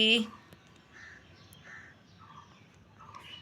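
A bird gives a few harsh, crow-like caws at moderate distance, with a soft voice speaking quietly underneath.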